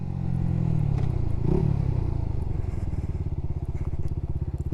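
A Lifan KP Mini motorcycle cruises in second gear, its small engine giving a close, loud, steady putter that settles into a rapid even pulsing as it runs along, with no voices.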